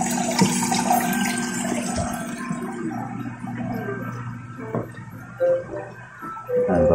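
A 10-watt 3-in-1 aquarium pump pushes water up through an overhead filter so it falls onto stones, making a steady splashing trickle with small gurgles and a faint motor hum throughout.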